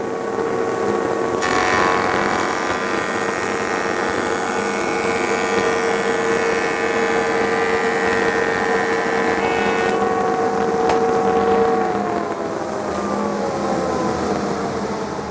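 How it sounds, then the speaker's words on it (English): A Craftex CX-Series 8-inch parallelogram jointer face-jointing a board, a loud steady machine whine with a cutting roar during the pass that eases off near the end. "So let's joint this face."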